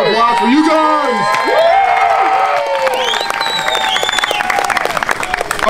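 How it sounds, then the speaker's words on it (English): A small crowd at an outdoor spring campout claps, cheers and whoops loudly, the voices rising in bursts over the applause before settling into steadier clapping. "Can I get a round of applause for you guys?"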